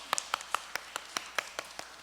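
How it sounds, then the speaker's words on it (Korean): A small church congregation at a Sunday service claps in a steady, even rhythm, about ten crisp claps in two seconds, fairly faint and with no voices over them. "우리 축복의 박수 쳐드리겠습니다"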